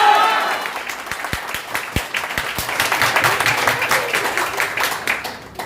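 Audience applause at a business training meeting, a dense, moderately loud wash of many hands clapping with a few distinct sharp claps near the start, sustained for several seconds before fading.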